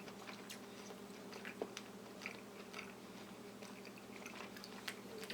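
Someone chews a bite of cold smoked salt pork up close, giving soft, steady wet chewing with occasional small crunches over a quiet background hum.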